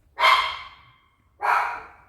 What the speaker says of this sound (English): whenever there's a car driving by, she barks.